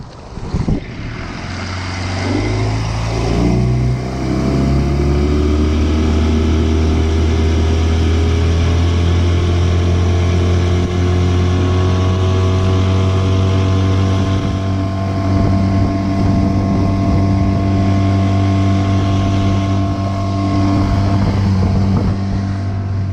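Homemade skiff motorboat cruising at about 17 to 18 miles an hour on partial throttle, its outboard engine droning loud and close with a steady pitch, plus wind rush across the microphone.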